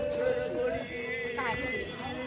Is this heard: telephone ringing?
no